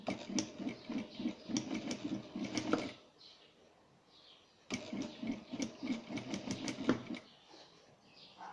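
A sewing machine stitches binding onto a fabric quilt in two rapid, rhythmic bursts of a few seconds each, separated by a short quiet pause, heard close up.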